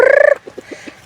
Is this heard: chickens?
yes